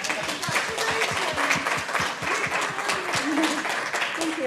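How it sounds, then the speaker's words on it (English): An audience at an international symposium on risk communication claps together in a dense, steady round of applause, loud and continuous throughout. "Give her a clap"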